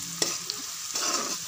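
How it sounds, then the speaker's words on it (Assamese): Onion and garlic fry with turmeric and salt in oil for a mixed vegetable dish: a soft close sizzle under brief spatula stirs and scrapes, with no talking. "এইখিনিও অলপ ভাজি লওঁ"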